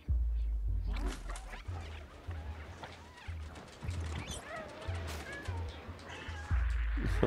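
A cat meows in the video game Stray amid game effects and low music; a few brief, moderately loud meows and crashes, with no talk.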